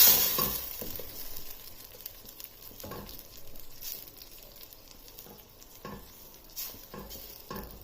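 Tomato paste stirring into frying Punjabi-style chicken gravy in a pan: a soft, steady sizzle with scraping stirs and occasional utensil clinks against the pot, fairly quiet and close, with no talking.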